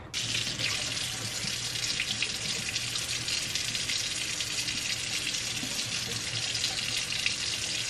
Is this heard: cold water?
yes